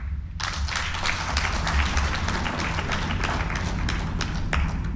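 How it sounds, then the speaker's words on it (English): Audience applause for the elders at the opening of an African democracy stakeholders' conference: a dense, steady patter of many hands clapping, with a low rumbling hall hum underneath, sustained evenly throughout. "Please, a round of applause for our elders."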